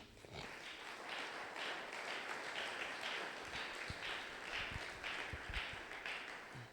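A church congregation at a Sunday praise and thanksgiving service claps for Jesus, a dense, sustained burst of many hands filling the room, fairly close and steady from start to finish.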